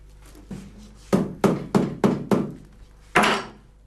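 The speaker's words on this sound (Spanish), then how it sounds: "Sebastián la golpea cada poco con el martillo." A hammer strikes rye straw sewn onto the leather frame of a handmade cowboy saddle seat, giving seven dull, padded thuds in an uneven rhythm, the last one loudest.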